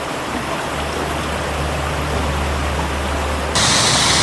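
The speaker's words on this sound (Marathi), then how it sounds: "माझ्या मागे तुम्ही पाहू शकत असाल हा आहे पालेश्वरचा वॉटरफॉल" Continuous roaring rush of falling water from Paleshwar Waterfall in the Sahyadri mountains, loud and steady, growing brighter and louder toward the end.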